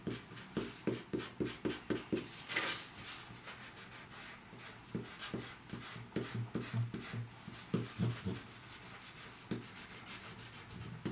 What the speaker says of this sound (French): Je peux tout effacer.